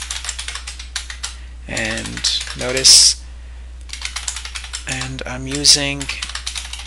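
Code for a first C++ program is typed in Visual Studio 2010 on a computer keyboard, a fast run of close, crisp key clicks that continues under a man's intermittent speech.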